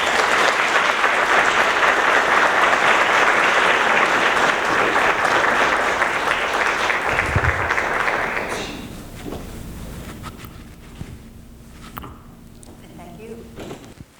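Sustained, dense applause from a conference audience welcoming design-business founder Holly Hunt, loud and steady for about eight seconds before fading into quieter room noise with scattered claps.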